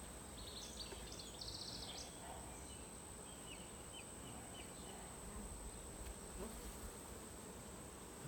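Honey bees hum in a steady, soft drone around an open hive during an inspection outdoors in hot sun, a continuous low buzz with faint higher whines from individual bees passing nearby.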